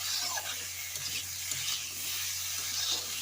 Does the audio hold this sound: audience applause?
no